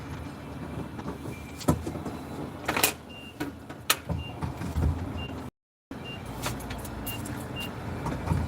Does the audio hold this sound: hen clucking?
no